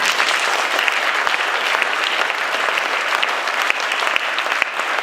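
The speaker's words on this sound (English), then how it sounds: "that's unprecedented and deserves a round of applause." An audience at a public meeting about a dam gives a loud, sustained round of clapping, dense and even throughout, with no voices over it.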